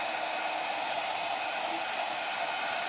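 Hair dryer blowing steadily on a decoupaged ceramic vase, a continuous close, loud whooshing hiss with no pauses or voices.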